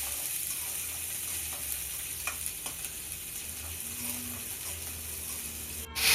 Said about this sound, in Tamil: 10 சின்ன வெங்காயம் கட் பண்ணி வச்சதை சேர்த்து நல்லா வதக்கி எடுத்துக்கலாம்